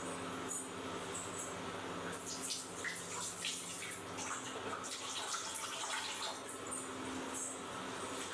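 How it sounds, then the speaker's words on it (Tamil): Water pours steadily into a cooking pot from a measured vessel while lunch is being made at home, a continuous splashing rush that runs through the whole stretch with no talk over it. "1 சொம்பு தண்ணி ஊற்றிக்கிறேன்"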